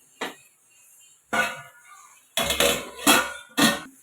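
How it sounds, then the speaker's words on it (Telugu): A lid is set on a cooking pot of onions for a drumstick and capsicum curry, giving a few close metallic clanks and rattles, separated by short pauses. "నేను మూత అయితే పెట్టుకుంటున్నాను"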